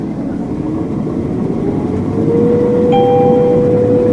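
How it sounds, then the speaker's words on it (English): A Claas Lexion 570R combine harvester engine, set up for soybeans, rises in pitch and loudness as it revs up, a steady low drone climbing, then settling into a higher sustained whine with added tonal hum. "We got to rev the engine up."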